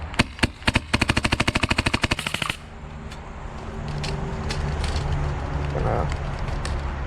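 A Tacamo Hurricane G36KV airsoft rifle fires a few single shots, then a rapid full-auto burst of about twenty cracks, followed by quieter handling noise and a voice.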